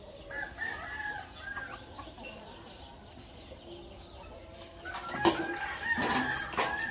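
Chickens cluck and a rooster crows during morning feeding, quiet and scattered at first, with louder, closer calls and crowing near the end; no voices.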